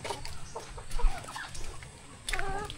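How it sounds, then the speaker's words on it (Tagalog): Backyard chickens cluck close by in a quick, busy chatter of short, repeated calls. "mga manok."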